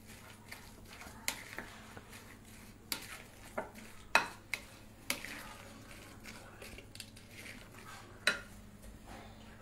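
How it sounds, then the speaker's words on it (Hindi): A spoon stirs and mixes food in a home-kitchen pan, giving a quiet run of soft scrapes and sharp little clinks against the metal, spaced irregularly, with no one talking. "उसको भी अच्छे से मिक्स कर देंगे हम।"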